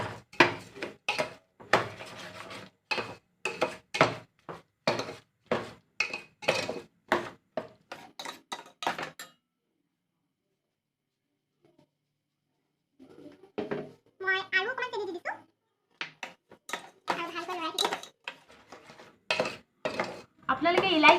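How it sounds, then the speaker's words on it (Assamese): A spoon repeatedly knocks and scrapes in a pot of amla jelly with sugar, a close rhythmic series of clinks that stops for a few seconds and then resumes with someone speaking over it. "আৰু মই দি দিছোঁ 1 কাপ চেনি এইখিনি লৰাম এতিয়া লৰাই থাকিম ধুনীয়াকৈ"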